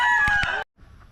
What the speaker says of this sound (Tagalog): pinapakain ng mga kagapay oh. Yung mga chicken.